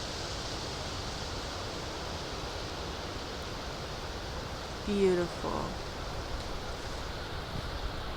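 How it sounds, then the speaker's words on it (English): Wind and lake waves on Lake Ontario, a steady broadband rush of surf and gusting air filling the whole stretch, with a brief spoken remark near the middle. "I'm gonna show you just how like wavy and windy Lake Ontario is right now"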